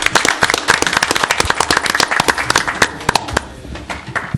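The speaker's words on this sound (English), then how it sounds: "That deserves a round of applause." Applause at a Bristol town council meeting welcoming back Sarah Klein, loud close handclaps in a busy irregular patter that thins slightly toward the end.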